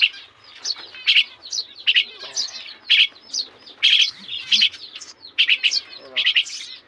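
Young chicks chirping in a nest, a rapid stream of high, bright tweets and peeps close by, overlapping in quick bursts for the whole stretch, with no talk.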